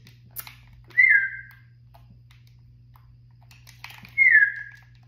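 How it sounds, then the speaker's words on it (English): A person whistles two short descending notes a few seconds apart, each a clear sliding pitch over quiet background hum, with faint clicks in between and no talking. "If you're really good at whistling, annoy them."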